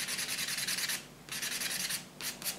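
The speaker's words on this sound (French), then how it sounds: "là je matifie légèrement la plaque." A multi-sided nail buffer rubs across a fingernail plate to matte it. Two bursts of quick back-and-forth strokes are heard close up, with a short pause between them and a third burst starting at the end.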